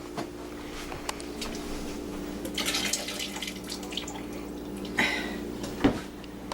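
Water drained from boiled potatoes splashes and trickles in uneven bursts, with a louder pour near the end and a low steady hum underneath.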